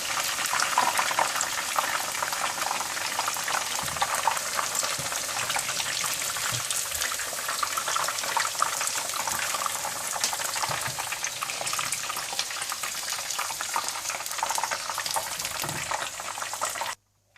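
Chicken pieces frying in hot oil while making Chicken Manchurian, a steady dense sizzle and bubbling that runs unbroken and fairly loud throughout, with no voices over it.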